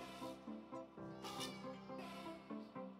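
A cat meows repeatedly up close, a series of short, loud, plaintive cries in quick succession.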